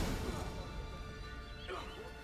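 Roach, Geralt's horse in The Witcher 3: Wild Hunt, lets out a brief whinny over dense game background noise, with a rising neigh near the end.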